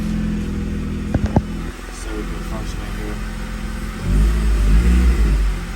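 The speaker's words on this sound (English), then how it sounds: "I'll give y'all some revs" Cold 8th-gen Honda Accord with a built K24 engine, muffler delete and Ktuner tune idles with a steady rumble while someone speaks briefly, then a loud, deep rev swells and holds near the end.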